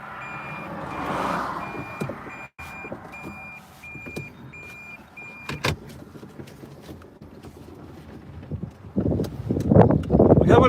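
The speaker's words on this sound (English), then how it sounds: "Sorry about the beeping." Vehicle reversing beeps from a storm chaser's truck on the Northern Plains, a steady high repeating tone under road and engine noise, with a clattering burst near the end.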